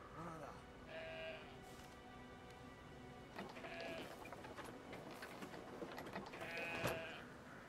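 Goats bleat several times in the video game Brothers: A Tale of Two Sons, fairly faint and spaced out against a light ambient background.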